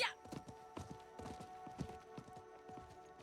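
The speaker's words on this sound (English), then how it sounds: "I think that was the merchant's horse." Rhythmic clip-clop of horse hooves trotting at a steady pace in Diablo IV, fairly close, with faint background ambience.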